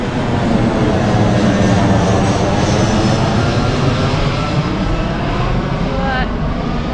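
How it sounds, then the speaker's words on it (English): A fixed-wing airplane flying low overhead near the airport in Kota Kinabalu, Borneo, Malaysia, a loud continuous engine roar filling the whole stretch with no letup. "And look at the airplanes."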